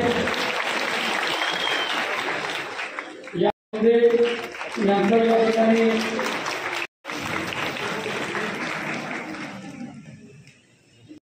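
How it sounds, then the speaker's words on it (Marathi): An audience claps loudly at a felicitation ceremony in Satara for a newly elected MLA, held by the Matang community. Dense applause opens, someone speaks over a public address, then the clapping swells again and fades toward the end. "सर्वांनी जोरात टाळ्या वाजवायचे."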